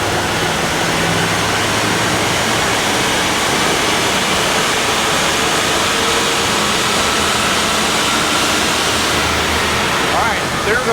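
An L5P Duramax diesel pickup with 2,000 pounds of sand in the bed runs a dyno pull, a loud, steady broadband roar of engine, tires and rollers sustained at full strength throughout.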